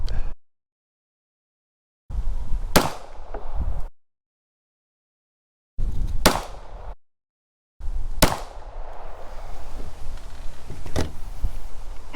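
Sharp, loud rifle shots fired through a weapon with a red dot sight, three or four single cracks spaced a few seconds apart, each ringing briefly before fading into outdoor quiet.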